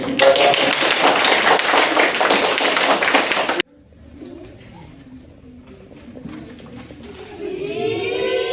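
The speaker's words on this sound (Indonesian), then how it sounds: "Jadi tepuk tangan nih." Dense applause from a classroom audience during a teaching practice session, steady and loud for about three and a half seconds, then cutting off abruptly to quieter room murmur and shuffling.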